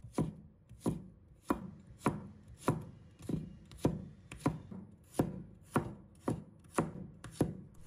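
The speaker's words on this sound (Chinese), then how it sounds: "再准备1把大蒜，把它切成片。" A knife slices garlic into pieces on a chopping board in a steady, evenly spaced series of about a dozen crisp chops, close and clear with no talking.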